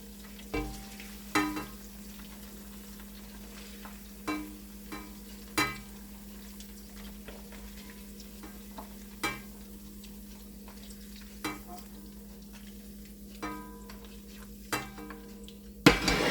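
Cubes of paneer fry in a pan for palak paneer. A steady low hum runs under a faint sizzle, and utensil clinks and scrapes land at irregular intervals. Nobody speaks.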